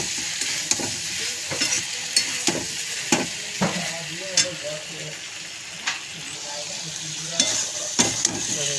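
Egg curry masala sautéing in a pan with fried and boiled eggs, a steady sizzle under repeated spatula scrapes and taps against the pan, a voice speaking at times.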